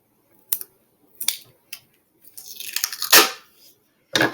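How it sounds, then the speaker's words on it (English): Tape is pulled off the roll in a few short, sharp rips, then one longer stretch of tearing and peeling, close and fairly loud between quiet gaps, while pieces of a black prop sword are taped together. "I'm going to tape this together."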